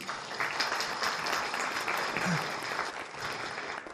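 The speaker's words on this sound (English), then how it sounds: "so please give Josie a round of applause" Steady applause fills a function room at a lunch event in the Conservatory All Seasons in Bendigo, with a dense, even patter of many hands continuing for the whole stretch at moderate loudness.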